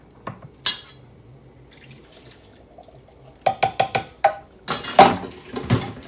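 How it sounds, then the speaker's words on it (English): A can of whole kernel corn, liquid and all, is poured into a crockpot, giving a few wet splashes and glugs along with several sharp metal-and-ceramic clinks and scrapes in quick bursts. "Can of whole kernel corn, and I don't bother draining that. I just put that right in the way it is."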